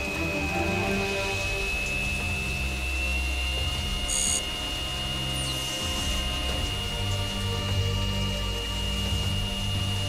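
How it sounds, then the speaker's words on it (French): Steady, dense hiss of acid rain falling without pause, a continuous cartoon-style downpour with a thin high whine running through it. "La pluie acide a commencé"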